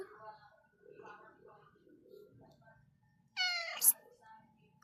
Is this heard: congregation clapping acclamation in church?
no